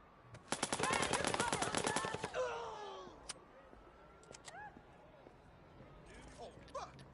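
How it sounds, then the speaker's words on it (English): Rapid automatic gunfire rattles in a burst of about a dozen shots in Watch Dogs 2, followed by fading game ambience and scattered faint sounds, with no one talking over it. "We're shooting!"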